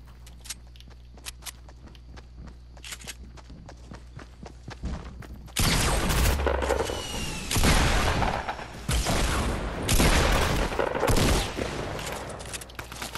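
Gunfire in Fortnite, including heavy sniper shots, a string of sharp cracks and taps at first, then loud bursts of rapid fire and booming shots in close succession.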